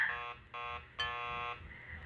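A harsh electronic door buzzer in the video game Killer Frequency sounds three times in quick succession, the last press held longest, close and fairly loud with no talking.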